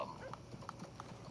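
A racing horse trots in Red Dead Redemption 2, giving faint, evenly spaced hoof clops over quiet game ambience, with a short snort-like horse sound mixed in.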